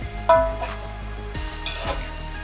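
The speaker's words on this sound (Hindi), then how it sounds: "मैं इसको चिकन को फ्राई कर लेता हूँ" Chicken frying in a pot for white chicken pulao, with a soft sizzle and several clinking scrapes of a spoon stirring against the metal, close and fairly quiet, no voices.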